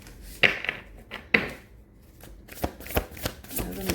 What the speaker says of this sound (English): Let me reshuffle these cards.